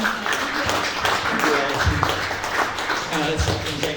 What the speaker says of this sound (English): Give a round of applause to Bill, please.